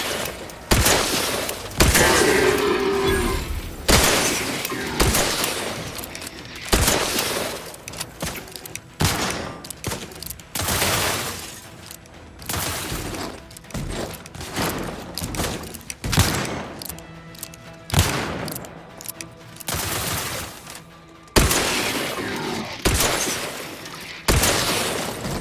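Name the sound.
gunfire in combat, from the video game Outer Worlds 2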